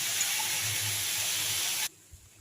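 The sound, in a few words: eggplant frying with fenugreek greens in a pan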